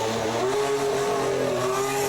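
A 2015 Formula 1 race car runs at Jerez pre-season testing, its engine producing a sustained, fairly distant whining tone that rises and falls gently as the car moves, heard alone without commentary.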